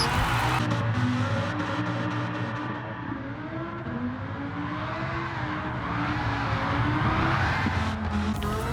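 Lamborghini Huracan, a rear-wheel-drive build, drifting at speed in the racing game Gran Turismo 7: a continuous loud engine roar with shifting revs and sustained tire squeal, steady and close throughout with no talk.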